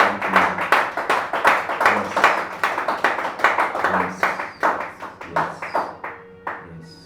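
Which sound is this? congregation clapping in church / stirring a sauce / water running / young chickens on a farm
congregation clapping in church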